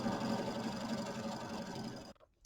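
An embroidery machine stitches quilting lines across a Kimberbell Nativity bench pillow, giving a steady, close mechanical whir with a rapid stitching pulse that runs continuously, then stops abruptly near the end.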